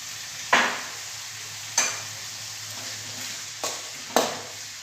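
Tomatoes with a little salt cook in a pan over fried onions, a soft low sizzle broken by four or five brief stirring scrapes spaced a second or so apart.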